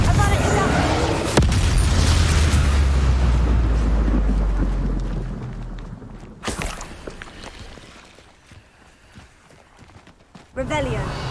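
In Hogwarts Legacy, a Confringo spell blast lands as a loud, deep booming rumble that swells and slowly fades over several seconds. A second, sharper burst hits near the end, all over dense game noise.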